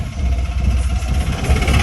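Vehicle engines idle in a heavy traffic jam near a bridge, making a loud, continuous low rumble with uneven throbbing, up close and without voices.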